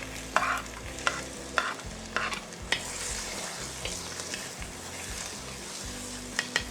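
Ginger, garlic and green chili sizzle steadily in hot coconut oil, with a constant frying hiss and repeated stirring scrapes in the pan, close and alone.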